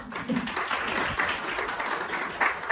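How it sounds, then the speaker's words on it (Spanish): An audience applauds during a public conversation event, a moderate wash of clapping that swells and dips over a few seconds, with faint voices underneath. "Un aplauso, por favor"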